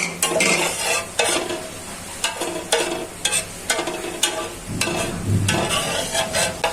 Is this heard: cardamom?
yes